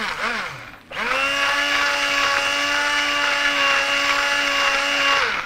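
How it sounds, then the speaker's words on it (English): Electric blender pureeing peas for a goat's cheese risotto, a steady high whine running loud and unbroken after a brief dip at the start, with no talking. "Keep the blender down at the bottom, otherwise you might have an accident."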